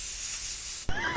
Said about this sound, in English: Human pepper spray.